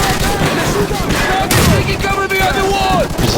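Heavy machine gun fire in the video game Call of Duty Modern Warfare, dense continuous gunfire and bursts with shouted voices over the battle.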